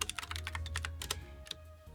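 A chat command being typed on a computer keyboard, with a quick run of close, crisp keystrokes in an uneven rhythm and brief gaps between bursts over a low background hum.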